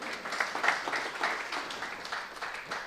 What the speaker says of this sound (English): round of applause for my wife.